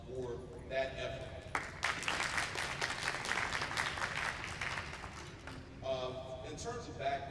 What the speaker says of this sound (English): So once again, he deserves a round of applause for that effort.